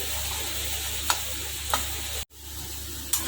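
Ginger garlic paste frying with onions in a pan, a steady close sizzle with a low hum beneath, a few light spatula clicks, and a brief dropout in the middle, no talking.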